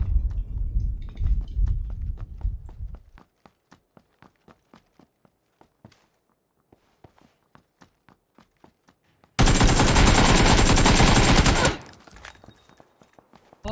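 Gunfire in a solo shooter video game, with a sustained burst opening the passage, then a long run of sharp, evenly spaced single shots, and later a dense, loud rattling volley before more scattered shots. No voices.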